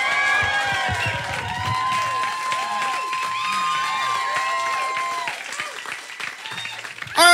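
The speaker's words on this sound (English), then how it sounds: "All right, Chris Cubis, give him another round of applause." An audience at an Austin comedy variety show applauds a stand-up comedian, with steady clapping, whoops and whistles rising above the crowd and a voice briefly over it.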